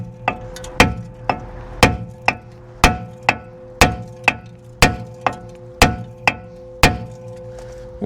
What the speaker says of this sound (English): I've only got this stupid copper hammer